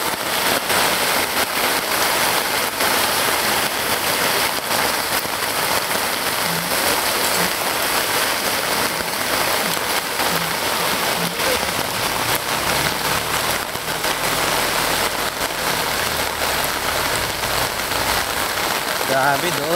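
Heavy rain pours steadily onto knee-deep flood water, a dense, loud, continuous hiss of drops on the surface with no letup, and a voice speaks faintly beneath the downpour.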